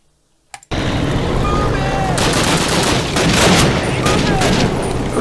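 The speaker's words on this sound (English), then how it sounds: "Who's shooting at me?" Dense, continuous gunfire from a Call of Duty battle scene bursts in after a brief silence and keeps up loudly to the end, with rapid overlapping shots, a swelling volley midway, and a voice mixed into the din.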